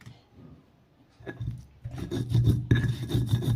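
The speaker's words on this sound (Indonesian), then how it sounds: "Lalu masukkan ketumbar dan ladanya. Kita ulek sampai halus." Coriander and pepper are ground in an Indonesian stone mortar (ulek), giving close, rhythmic rasping and scraping strokes that start softly and grow louder and steadier, with no talking.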